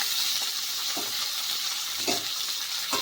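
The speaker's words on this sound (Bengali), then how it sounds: "পেঁয়াজগুলোকে ভেজে নেব" Steady loud sizzling of onions, ginger and garlic frying in hot mustard oil, continuous hiss with occasional stirring scrapes, no voices.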